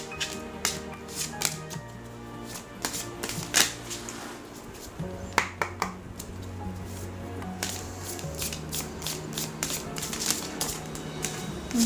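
A deck of oracle cards is shuffled up close, with rapid riffling snaps and light taps coming in bursts and short pauses against a quiet room.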